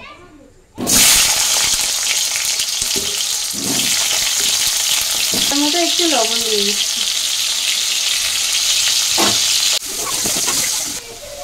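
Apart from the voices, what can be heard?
potatoes frying in hot mustard oil in a wok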